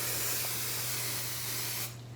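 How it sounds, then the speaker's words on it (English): Maximum-hold hairspray is sprayed onto pampas grass in one continuous close, loud hiss lasting nearly two seconds before cutting off abruptly. "So I'm just gonna do the spray, try to do it in a place where it's well ventilated."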